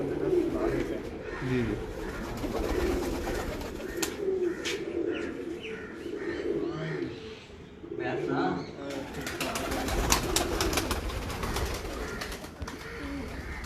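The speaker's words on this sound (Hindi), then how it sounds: "अब आपको शौक करवा रहे हैं मियाँ साहब के टूवल वाले कबूतरों का" Breeder pigeons from Kasur coo repeatedly in a loft, soft throaty calls layered with chirps from other birds, while a man briefly murmurs agreement nearby.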